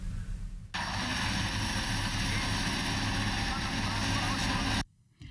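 A new airport fire engine revs its engine, a loud, steady roar that begins abruptly after a brief opening and cuts off near the end.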